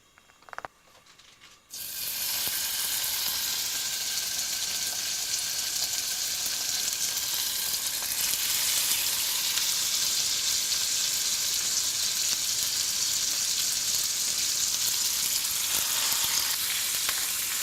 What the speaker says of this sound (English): what we're going to do is we're going to brown the pork belly